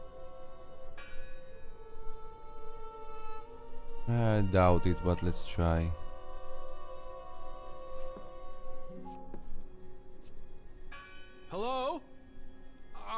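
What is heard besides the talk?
church bell ringing in video game Draugen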